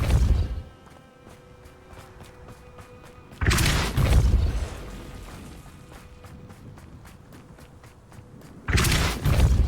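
A Depulso force spell in the video game Hogwarts Legacy lands as two loud, heavy booming impacts a few seconds apart, set against a quieter steady game ambience with faint tonal hum between them.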